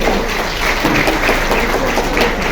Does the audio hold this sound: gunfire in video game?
no